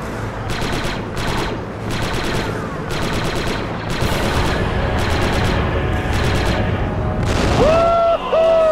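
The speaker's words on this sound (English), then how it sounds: "3-8, my scanners show an explosion." Explosions and gunfire in the Star Wars Republic Commando video game: rapid bursts of automatic fire and heavy booms fill the battle, with a rising electronic tone near the end.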